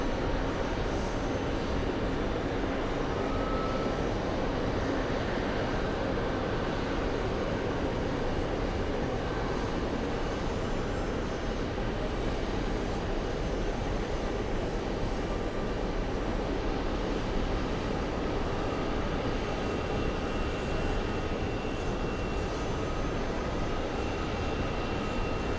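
A Boeing 747 arriving from Frankfurt gives a steady, moderately distant jet roar that holds evenly throughout, with no voices over it.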